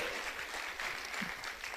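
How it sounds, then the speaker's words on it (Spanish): Brief applause from a church congregation for the Lord during a sermon, a soft, even patter of many hands clapping at a distance. "Dale un aplauso al Señor"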